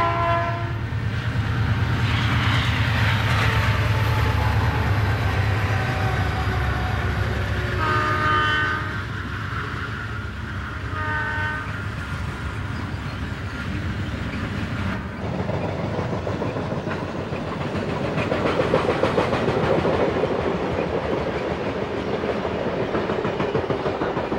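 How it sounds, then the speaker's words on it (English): A BN eastbound unit coal train rumbles steadily across a bridge, loud and continuous, with a drawn-out horn blast near the start and rolling wheel clatter throughout. "A BN eastbound unit coal train now graces the bridge scene."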